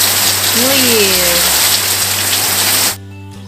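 Steady rain falls across Bicol during the New Year, a dense even hiss that fills the scene before cutting off abruptly near the end, with a brief tonal whistle early on.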